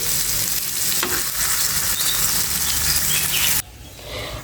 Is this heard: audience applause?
no